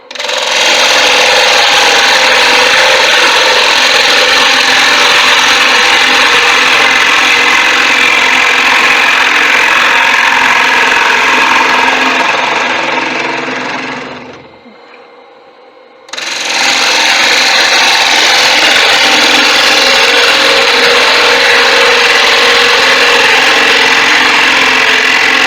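A wood lathe hollows a tiger wood platter, a loud steady motor whine mixed with the gritty hiss of the cutting tool on spinning wood, dropping away for a moment mid-way before resuming at full strength.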